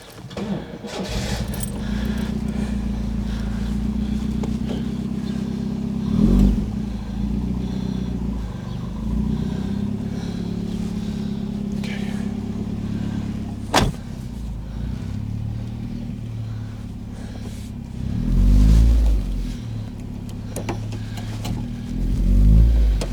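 A classic car's engine idles and runs steadily as it is driven slowly into a garage for winter storage, a low continuous rumble with a few bumps and a brief louder swell near the end.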